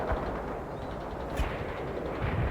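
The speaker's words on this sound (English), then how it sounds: "They're shooting at us." Gunfire and explosions from the war strategy video game World in Conflict roll on as a dense, continuous rumble of shots and blasts, with a few heavier thumps rising out of the din.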